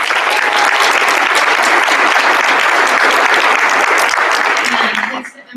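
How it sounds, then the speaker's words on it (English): Loud, sustained applause from a large crowd at a conference plenary session, steady clapping for about five seconds before quickly dying away. "let's give one more round of applause to all the speakers"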